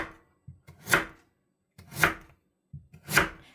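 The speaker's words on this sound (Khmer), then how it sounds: "បន្ទាប់មកគឺហាន់វាចាជាចំណិតបែបនេះ" Knife slicing white radish into pieces for kimchi, three distinct crisp cuts spaced about a second apart, each a short sharp crunch ending in a thud on the board, close and clear with silence between.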